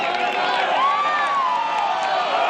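Spectators at the Cambia Portland Classic LPGA golf tournament cheer and call out in a steady, dense wash of crowd noise that holds at one level throughout.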